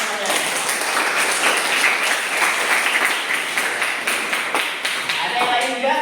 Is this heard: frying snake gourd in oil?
no